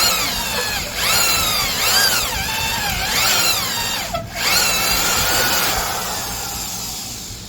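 A John Deere USA 1/2 inch Super Duty drill drives a self-feed bit, its loud, close motor whine sagging and recovering in pitch again and again as it bogs down under load, with one brief dip.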